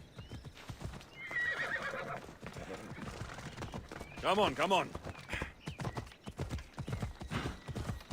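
Horse hooves clip-clop steadily in Assassin's Creed Odyssey, with a loud whinny near the middle, while someone talks over much of it.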